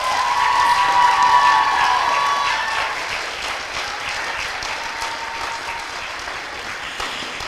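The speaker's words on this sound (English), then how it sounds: "let's give Pastor Chip a round of applause" An audience claps at a school spring concert, a sustained round of applause that starts full and slowly thins out, heard from within the crowd.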